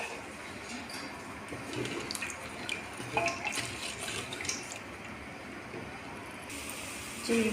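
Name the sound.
water poured into pot with chicken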